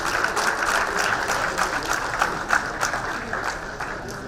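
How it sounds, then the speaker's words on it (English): Sustained audience applause fills a conference hall during a fintech conclave, a dense steady wash of many hands clapping with a few sharper bursts, continuing without pause throughout. "They deserve a round of applause."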